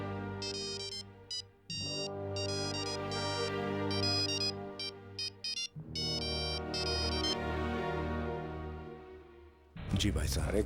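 A melodic phone ringtone plays in repeated tonal bursts with short gaps, fairly loud and close, and a sharp noise burst cuts in at the very end.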